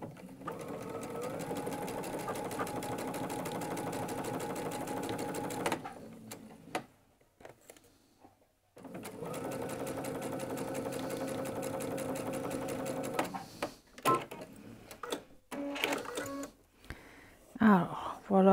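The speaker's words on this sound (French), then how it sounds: "Je vais coudre un poil à l'extérieur, 1 mm à l'extérieur de cette marque-là." A sewing machine stitches fabric in steady rapid runs of mechanical clatter, close and clear, stopping twice for short pauses with small handling clicks in between.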